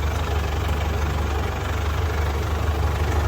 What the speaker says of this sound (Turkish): Diğer su motoru da burada arkadaşlar.